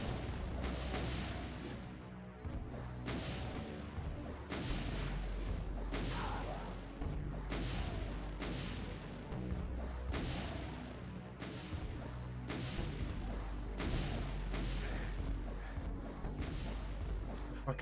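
Rocket explosions boom repeatedly in the Doom WAD Hellbound, a string of heavy blasts and crashes at a fairly even pace, fairly faint and dense, with a voice talking over the action.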